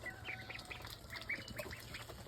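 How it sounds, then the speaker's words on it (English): Ducks at breakfast time, one of them a big duck named Uno, give a run of short quacks and honks in quick succession, moderately near, over a faint background hum. "Look how big these ducks are, especially Uno"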